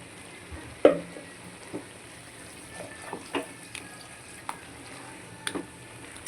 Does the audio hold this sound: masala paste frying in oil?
yes